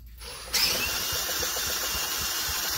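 MEP 501A military generator engine cranked over with the decompression lever held open, a sudden onset after brief quiet into a steady, loud mechanical whirring drone with fast rhythmic pulsing.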